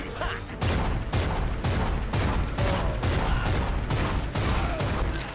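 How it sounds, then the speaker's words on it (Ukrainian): Rapid, sharp pistol gunshots fire in a steady rhythm in the video game Bloodshed, loud and close, with thick game sound effects and noise filling the gaps between shots. "зараз пістолет стріляю так, як має бути"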